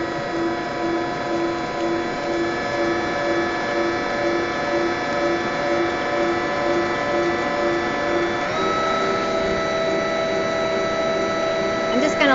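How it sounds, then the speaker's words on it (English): A blender purees fruit for ice cream with a steady, loud motor whine that shifts pitch partway through and runs on without talk. "I'm just going to let that blend for just a minute."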